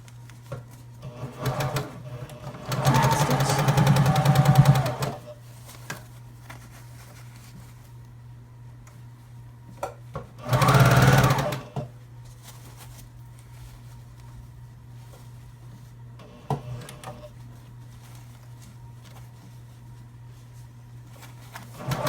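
Sewing machine stitching around a fabric water bottle cover, running in two distinct bursts of a few seconds each with quiet pauses between, close and steady.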